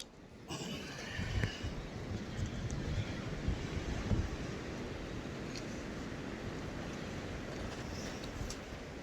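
Wind gusts outdoors on a windy day, a steady low roaring rumble buffeting close to the microphone for most of the stretch, with no voices.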